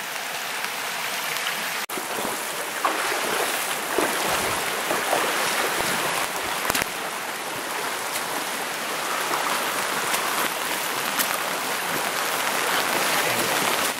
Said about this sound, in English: Here's the branching of the creek.